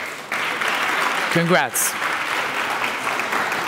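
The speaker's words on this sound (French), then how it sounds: "On les applaudit tous, s'il vous plaît." Audience applause at a tech awards ceremony for the nominees, a steady wash of clapping throughout, interrupted midway by a brief spoken word from a nearby voice.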